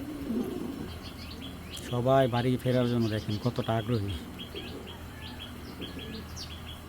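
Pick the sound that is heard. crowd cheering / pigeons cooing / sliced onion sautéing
pigeons cooing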